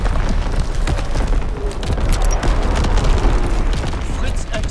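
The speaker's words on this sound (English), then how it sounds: "Incoming enemy artillery." An incoming enemy artillery barrage in the Call of Duty WW2 video game rolls on as loud, dense, overlapping booms and rumbling blasts that never let up.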